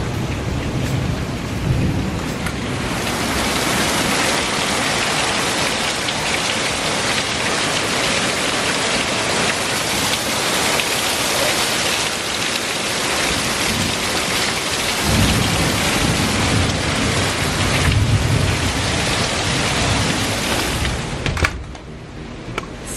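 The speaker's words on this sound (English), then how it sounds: "storming like crazy today" Pouring rain and a thunderstorm at a lake, with a dense, steady roar of rain drumming on surfaces and deep thunder rumbles rolling through, loud and continuous with no talking.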